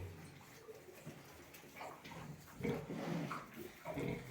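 Faint grunts and squeals of a newborn litter of 16 piglets, soft and close, with rustling and shuffling movement around the sow in a quiet pen.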